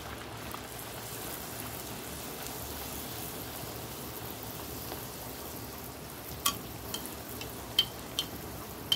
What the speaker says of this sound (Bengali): এখানে কিছু লুচি নিয়ে ভাজতে বসেছি